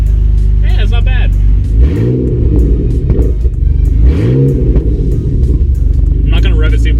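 A cold BMW E46 engine running with an open header idles with a deep, rough burble and is blipped twice to about 2,000 RPM, each rev rising and falling quickly; brief voices are heard between the revs.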